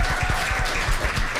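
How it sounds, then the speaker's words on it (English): A studio audience at an internet safety special claps in a brief, dense burst of applause, close and fairly loud, lasting only a moment. "Yeah, round of applause."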